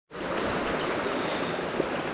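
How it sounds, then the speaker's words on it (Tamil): Stream water from the Devkund waterfall near Pune, swollen by the monsoon, rushes in a steady broadband roar that fills the whole clip evenly and close by, with no voices. "இதெல்லாம் தேவகுண்ட்லேருந்து வர தண்ணி தானாங்க"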